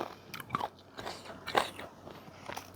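Crisp bites into a young, unripe Pim Saen mango, a few sharp crunchy snaps spaced apart with quiet chewing between them, close and fairly soft.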